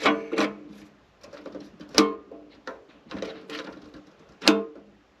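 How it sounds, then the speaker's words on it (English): Several sharp plastic clicks come in uneven bursts, close by, as the fuel cap of a Kero 241 A kerosene heater is twisted tight. Softer rustling fills the gaps between them. "That clicky noise you hear as I tighten that on"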